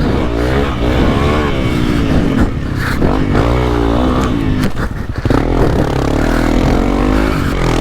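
A Honda CRF300L dirt bike works hard off-road, its engine droning and revving unevenly throughout with rising and falling pitch. Loud, close and continuous, with brief scraping or braking moments near the middle.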